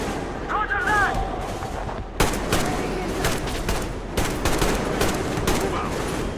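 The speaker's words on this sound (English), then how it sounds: "Covering fire for the Colonel! No saving ammo!" Covering gunfire in Metro Exodus erupts as loud, rapid bursts of automatic fire. The bursts are sustained and interrupted by short gaps, with a voice heard early on.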